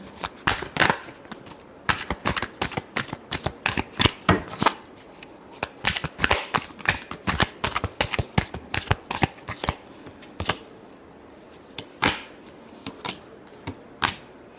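Tarot cards shuffled by hand, a rapid run of crisp riffling flaps and slaps in clustered bursts, busy at first and thinning to scattered single taps near the end, close and fairly quiet.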